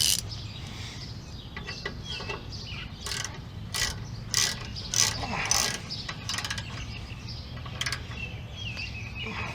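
Ratcheting wrench with a 10mm socket snugging down rear brake bolts on a Ford F150, heard as a series of close, quick metallic clicking bursts over a low steady hum, with faint birdsong behind.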